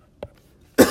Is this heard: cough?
yes